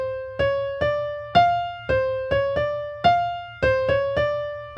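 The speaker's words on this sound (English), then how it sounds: "Then when you begin to roll those notes in that double roll a little quicker, sounds like this." A blues piano riff plays alone, with notes rolled in a quicker double-roll pattern, about ten bright strikes in a lilting rhythm, each decaying briefly.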